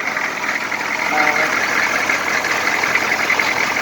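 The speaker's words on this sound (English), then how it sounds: "We got the used piston in and it's back together, seems to be running good" A repaired M1008 CUCV military truck with a 6.2 diesel runs steadily after a cracked piston was replaced, a continuous close engine drone with broad mechanical noise and no breaks.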